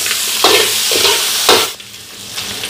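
Washed pork ribs hit hot cooking oil with fried shallots, giving a loud, steady sizzle broken by scraping stirs, then easing off near the end.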